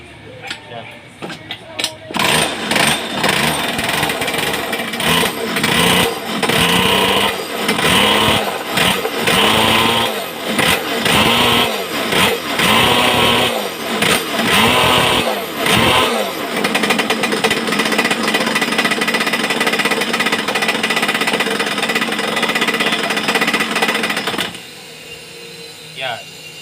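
A refreshed 49cc small engine runs loud and close with a rapid, uneven knocking beat that is strongest early on, then holds a steadier drone before cutting off near the end.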